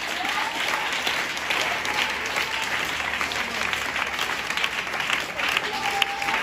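A church congregation applauds steadily and loudly throughout, a dense wash of clapping with crowd noise and some voices mixed in.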